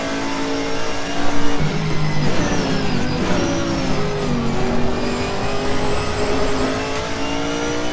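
A Chevrolet Camaro GT4 race car in Assetto Corsa Competizione at Bathurst bounces on its rev limiter, a loud, close, steady engine drone with a rapid stuttering pulse and faint tyre noise, no voices.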